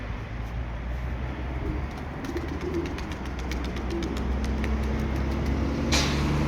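Mardin Sütbeyazı pigeons cooing in a loft in Pendik, a soft low steady murmur of coos under a constant background hum, fairly close and moderately quiet, with a faint brief rustle near the end.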